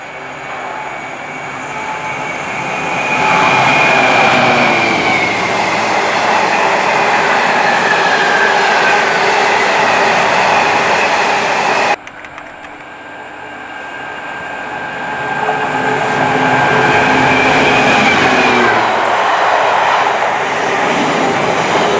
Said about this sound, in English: Had about two freight trains pass through Rugeley Trent Valley Station.